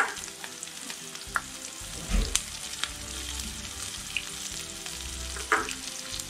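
Dried red chillies frying in hot oil for chicken 65, a steady close sizzle and crackle with a few sharper pops and stirring scrapes across the whole stretch.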